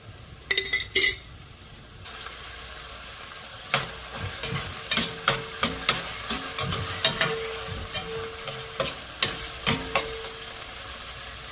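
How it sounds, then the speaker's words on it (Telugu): Ginger garlic paste frying with onions in a pan, a steady sizzle under a regular series of metal spoon scrapes and clinks against the pan, after a few sharp clanks at the start, with no voices. "అది కూడా కొద్దిగా పచ్చివాసన పోయేంత వరకు ఫ్రై చేసుకోవాలి"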